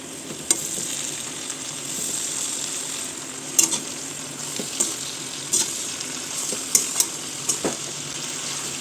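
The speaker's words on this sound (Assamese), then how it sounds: "এতিয়া একদম সাৱধানে আমি এইখিনি মিক্স কৰি দিম" Chicken with mixed leafy greens is stirred in a frying pan during an Assamese-style dry fry, a steady close sizzle broken by irregular scrapes and clinks of the utensil against the pan.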